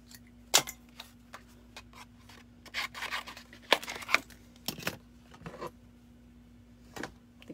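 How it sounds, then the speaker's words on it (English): Scissors cut through paper trimmed from a daisy design in a craft project, giving several short, crisp snips spread irregularly, quiet and close, with some rubbing handling noise between cuts. "I'm going to take my scissors and just cut."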